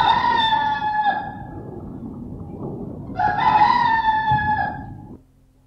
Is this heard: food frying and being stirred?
no